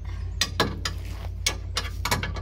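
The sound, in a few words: box-end wrench turning a suspension bolt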